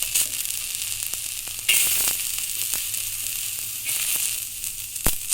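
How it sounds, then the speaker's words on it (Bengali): Chopped garlic dry-roasting on a hot tawa with no oil, giving a steady close crackling sizzle with a few sharper pops and stirring scrapes. "এখানে কিন্তু কোনো তেল ব্যবহার করব না, সব কিছু শুকনোই ভেজে নিব আমি।"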